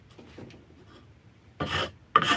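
Hand-carving a Canary wood handle for a cobbler's hammer at a workbench, with faint scraping early on, then two louder rasping strokes of the tool biting the wood, close up.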